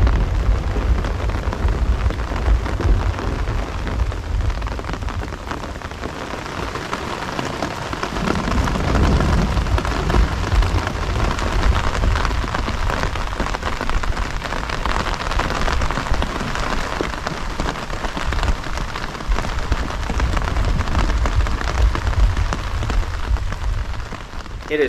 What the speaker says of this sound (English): Here it comes, everyone. It's beginning to rain.